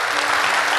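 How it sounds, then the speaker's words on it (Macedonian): Dense, loud audience applause at a folk ensemble's New Year children's concert, a brief continuous burst of many hands clapping together. "Ќе ве замолам вас за еден најголем аплауз за Ангела и Зорица."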